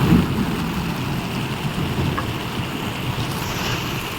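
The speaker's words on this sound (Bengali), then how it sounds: "বৃষ্টিটা দেখো আওয়াজ শুনতে পাচ্ছ বৃষ্টির আওয়াজটা" Steady monsoon-season rain pours down continuously, a dense broadband hiss with low rumbling texture throughout, fairly loud and close with no voices.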